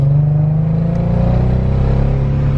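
A Mercedes-Benz C300 W204 engine with a rough idle drones loudly and steadily from inside the car, its pitch holding low and even rather than climbing high.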